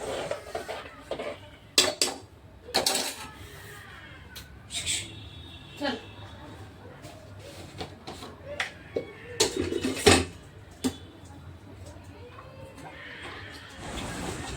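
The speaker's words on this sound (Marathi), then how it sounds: "मी इथे कुकरचं ढाकण लावून घेते" A few sharp metallic clanks and clicks as a pressure cooker lid is fitted and closed, with quiet talking and kitchen clatter around them.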